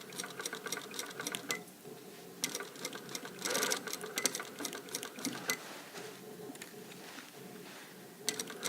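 Sewing machine stitching a blazer sleeve while it is eased in, running in short stop-start bursts of rapid mechanical chatter, close and moderately quiet, with no talking.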